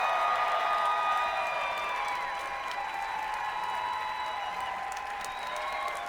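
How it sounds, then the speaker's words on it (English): An audience at a cosplay contest applauds and cheers for cosplayers, a steady wash of clapping with scattered whoops, moderately loud throughout without any speech. "you deserve the cheers and applause of this lovely crowd"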